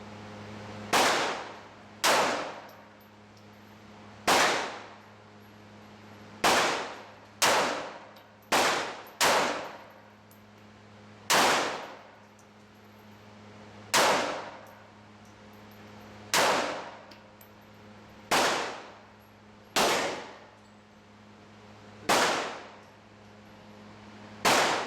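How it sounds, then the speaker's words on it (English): .380 caliber pistol fired at a shooting range: about fifteen sharp, loud reports at irregular intervals, some in quick pairs, each ringing off briefly against a low steady background hum. "She shot that 380 pretty darn good."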